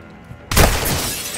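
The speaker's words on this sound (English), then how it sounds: "You can break glass for more, but it will compromise you." A sudden loud shatter of breaking glass in Call of Duty Modern Warfare 2, a sharp crash followed by a bright scattering tail, after a quiet moment with a faint background.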